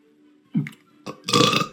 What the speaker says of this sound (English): Edit that burp out, please